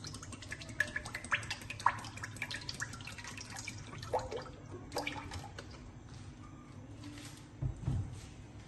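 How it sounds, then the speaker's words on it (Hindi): Oil poured into a pot for frying pakoras, a faint trickling and dripping liquid sound with small clinks, quiet in a home kitchen. "इतनी देर में इसमें ऑयल डाल देती हूँ।"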